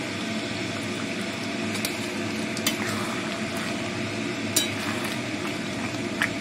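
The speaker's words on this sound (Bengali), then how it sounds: "আর একটু কষে নিই" Meat for kosha mangsho stirred and sautéed in a pan, a steady close sizzle with occasional scraping clinks of the spoon against the pan throughout, no one speaking.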